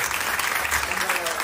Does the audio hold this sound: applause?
yes